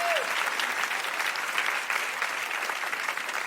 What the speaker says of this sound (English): a big round of applause for Jonquil, who does our Patreon.